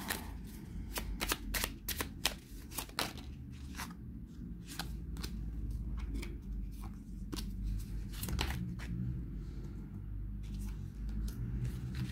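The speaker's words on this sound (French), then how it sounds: "Je remets un peu les cartes en place parce que sinon ça glisse trop." Tarot cards are rearranged and squared up on a table, producing a run of crisp sliding snaps and taps that repeat irregularly over a low steady background hum, with no one speaking.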